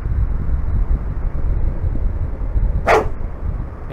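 A single dog bark cuts sharply through steady outdoor wind and low rumble in the Mountain of Shame survival game, the dog accompanying a gas-masked man; one short, fairly close bark near the end.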